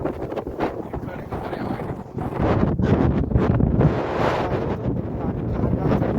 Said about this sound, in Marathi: वारा बघा, वारा बघू शकता.